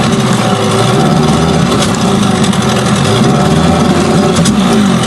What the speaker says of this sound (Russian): Ну, слышите работу мотора?